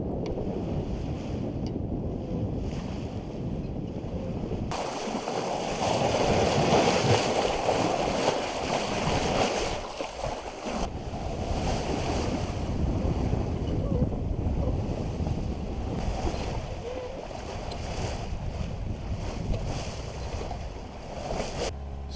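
Steady wind rushes over the deck of a Tartan 37 sailboat under way on open Chesapeake Bay, with waves washing along the hull, loud and continuous throughout, with no talk.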